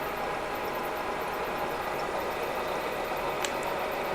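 A manual lathe turns at 210 RPM while cutting a worn steel shaft, making a steady, even mechanical hum with a faint hiss of the cut. The sound runs unbroken the whole time, with no one speaking.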